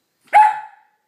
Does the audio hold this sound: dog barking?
yes